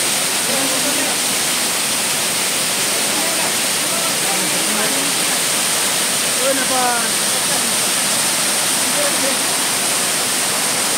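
The Brahmani waterfall at Ayodhya Hills, Purulia, roars loudly and continuously, a dense, unbroken wash of rushing water that fills the whole scene.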